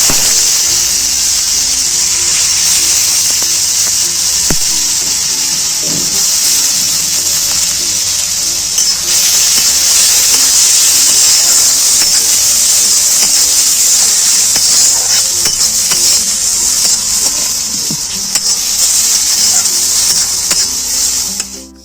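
Chopped onion frying with turmeric, cumin and coriander powder in a pan for a prawn curry, a steady loud hiss and sizzle running unbroken throughout with faint clatter beneath and no talk.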